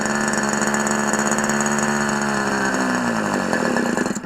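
An OS MAX 50 FSR model glow engine runs rich at idle during its first start and break-in, a loud, steady buzzing drone with a faint rise and fall in pitch, close by and with no talk.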